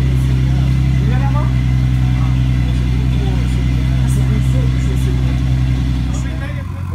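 A car engine idles steadily with a low, rumbling drone throughout, steady and close, easing off slightly at the very end.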